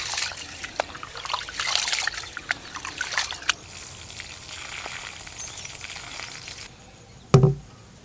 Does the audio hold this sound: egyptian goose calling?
no